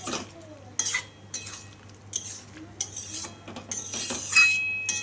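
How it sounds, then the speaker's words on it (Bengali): Vegetables for a vegetarian Bengali ghant are stirred in a pan, with a spoon scraping and clinking against the metal in irregular bursts under a faint sizzle. "সমস্ত কিছু দিয়ে আমি এখন ভালো করে সবজিগুলোর সাথে মিশিয়ে নিচ্ছি"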